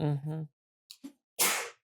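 A short voiced sound is followed by two quick breathy catches, then a sharp explosive sneeze burst close up.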